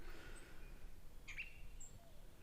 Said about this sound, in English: It is nice out and there's birds.